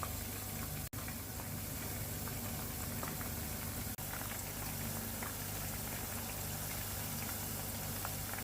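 Onions deep frying in oil in a pot: a steady, dense sizzle and bubbling hiss that runs continuously and evenly, with two brief sharp breaks, and no talking.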